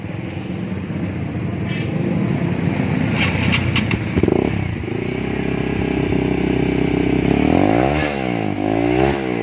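A Honda CB150R motorcycle fitted with a Ninja 250R exhaust idles loudly close by, then revs in repeated rising and falling bursts as the throttle is blipped.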